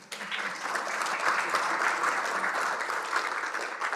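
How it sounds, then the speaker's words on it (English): Audience applauding at a public talk on local solutions for global water security, a dense, steady clatter of many hands sustained at even loudness for the full span with no voices over it. "Give him a round of applause"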